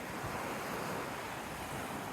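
Ocean surf washes steadily onto the sand at a beach around sunset, a continuous loud rushing roar mixed with wind noise buffeting the microphone, with no voices.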